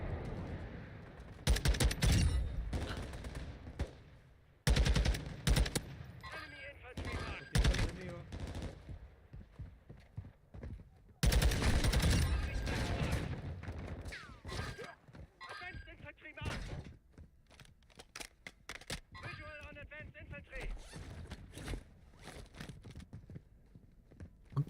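Rapid gunfire rattles during a Call of Duty Warzone DMZ match on Ashika Island. Loud automatic bursts and single shots come in several clusters, some close and some farther off, with a player talking between them.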